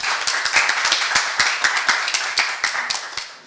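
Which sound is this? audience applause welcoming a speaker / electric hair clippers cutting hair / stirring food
audience applause welcoming a speaker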